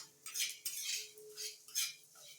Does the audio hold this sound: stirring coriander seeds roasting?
yes